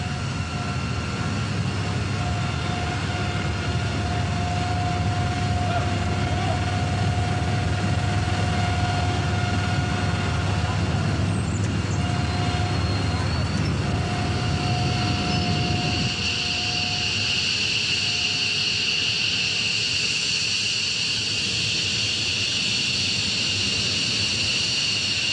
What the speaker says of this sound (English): This is an F-15 of the United States 33rd Tactical Fighter Wing